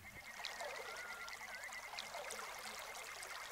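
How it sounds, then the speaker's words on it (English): Water trickles and burbles steadily, a faint, continuous flow like a small creek running over stones. "if you listen very carefully, you'll hear the creek."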